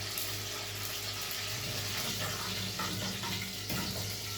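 Cumin seeds sizzling in hot ghee in a pan, a steady, close, dense crackling hiss that holds unbroken throughout with no talking.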